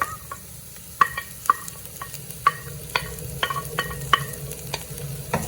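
Onion frying in a pan while making a dried-fish sambal, a low continuous sizzle broken by sharp, close clacks of a spoon against the pan every half second or so, with no talking.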